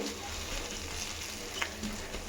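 Palak paneer ingredients frying in a pan: a steady, even sizzle and crackle of hot oil throughout, fairly close, with no talking.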